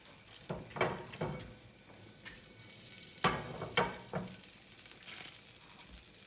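Hot oil bubbling and sizzling in a pan ready for frying fish, with irregular pops and crackles over a soft continuous hiss, close by with no talking.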